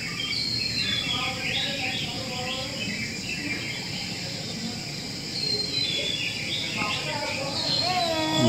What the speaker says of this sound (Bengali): শান্ত পরিবেশ আর পাখির আওয়াজ